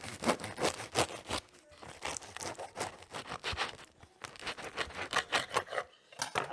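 A crusty, crunchy 100% hydration sourdough loaf being sawn through with a knife, giving repeated close rasping, crackling crust strokes in a steady rhythm with brief pauses between cuts.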